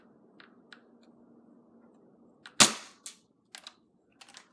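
A modified Nerf gun firing .25 airsoft BBs lets out one sharp, loud crack, followed by a few smaller clicks and clacks against quiet room tone.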